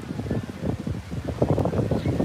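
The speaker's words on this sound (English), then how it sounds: "the wind is kicking up. It's super windy." Strong wind blowing outdoors in Hawaii, a loud, gusty roar buffeting the microphone throughout with no talk.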